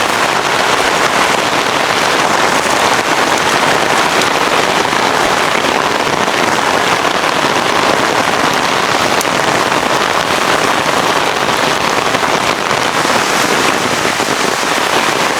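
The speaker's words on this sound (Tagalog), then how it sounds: "Kahit na malakas yung ulan." Heavy rain pours down on a farm with planted crops and jackfruit trees, a loud, dense, unbroken hiss of drops striking surfaces throughout.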